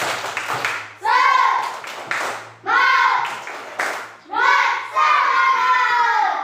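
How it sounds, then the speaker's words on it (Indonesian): A class of children performs the rhythmic 'tepuk semangat' clapping chant together in a classroom, with bursts of patterned group claps and voices chanting along in several phrases, loud and close. "Ayo kita bersama untuk tepuk semangat"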